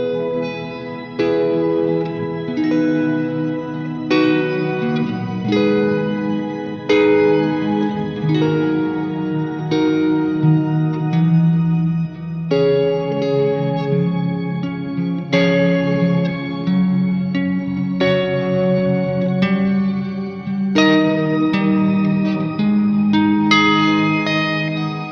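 Electric guitar through a Strymon BigSky shimmer reverb set to add octaves below and above, slow chords blooming into a lush, sustained wash of layered reverb, each new strum swelling over the lingering tail.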